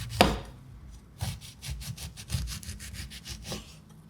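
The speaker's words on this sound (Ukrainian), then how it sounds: "Натираю цедру одного апельсину, тільки помаранчеву частину" Quick rhythmic rasping strokes of orange zest being grated, close and fairly quiet, repeated in a steady back-and-forth pattern.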